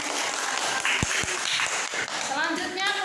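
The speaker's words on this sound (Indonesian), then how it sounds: "tepuk tangan untuk kelompok 1" Classroom applause for a student group, a brief scattered patter of hands clapping mixed with children's chatter and a teacher talking over it.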